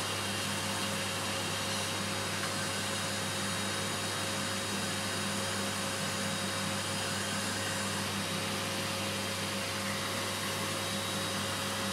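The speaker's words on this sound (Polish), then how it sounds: "Czysto, odkurzacz wszystko zbiera." A vacuum extractor draws dust while a furniture front is drilled, giving a loud, steady whooshing roar with a constant hum beneath it, unbroken for the whole stretch and with no voices.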